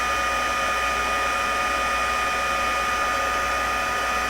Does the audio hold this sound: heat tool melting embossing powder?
yes